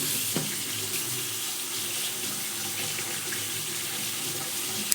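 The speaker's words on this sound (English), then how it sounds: "I'm using warm water." Warm water runs steadily from a tap into a sink to soak plastic parts from an Amstrad CPC 464 restoration, a constant close hiss and splash with no voices.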